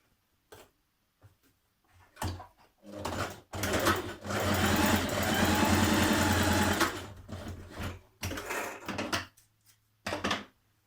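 A sewing machine stitches fabric for an evening garment in short starts, then one long steady run of fast mechanical whirring and ticking, with a few brief stop-start bursts at the end.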